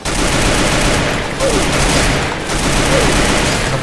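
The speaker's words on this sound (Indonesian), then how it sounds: "Saya nembakin kamu kena." Rapid automatic gunfire in the Free Fire mobile battle game, loud sustained bursts with short gaps between them, dense and close throughout.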